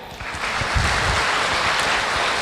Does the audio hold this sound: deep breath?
no